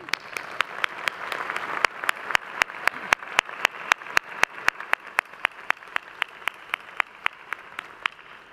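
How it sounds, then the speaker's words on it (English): Applause at a spring commencement ceremony for graduate students at Ohio University. Steady, sharp rhythmic claps from one person land about three times a second, with a softer wash of crowd clapping beneath them that fades over time. "I'm going to clap."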